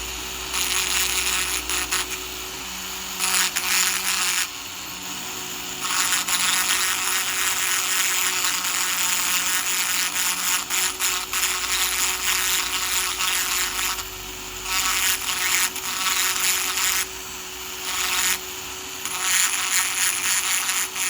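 A Dremel rotary tool carves a large Andamooka opal with a continuous high-pitched whir that dips and swells in bursts as the bit presses and lifts, close and steady throughout, with no talk.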